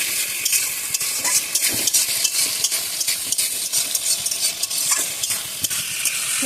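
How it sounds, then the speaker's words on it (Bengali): Spices with ginger paste and cumin paste are sautéed and stirred steadily in a pan, a continuous close sizzle with scraping strokes throughout and no speech. "মশলা দিয়ে খুব সুন্দর করে কষিয়ে নেব।"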